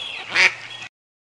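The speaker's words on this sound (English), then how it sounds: "Duck." A single duck quack, loud and close, a short nasal burst standing alone without talk around it.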